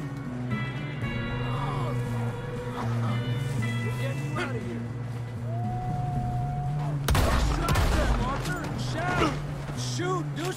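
Gunfire in Red Dead Redemption 2, a few sharp shots with a loud burst of blasts near the end, heard under voices and in-game music.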